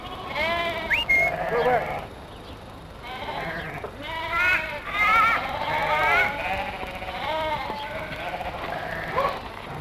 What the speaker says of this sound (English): We have to muster all of the sheep and drive them to the shearing sheds.